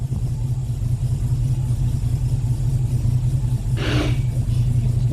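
A Holden VK Commodore engine running at its first start in 8 years, giving a steady low idle rumble with a throbbing pulse, and a brief voice or clatter near the end.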